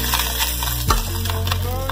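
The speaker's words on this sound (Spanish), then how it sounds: "Entonces lo que quiero es que se doren un poco en la mantequilla, sellarlos un poco" Quail eggs brown in butter in a pan, a steady close sizzle under stirring, with a hard knock of the spoon partway through.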